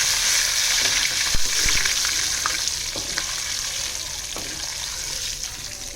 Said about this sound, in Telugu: కరివేపాకు తాలింపు.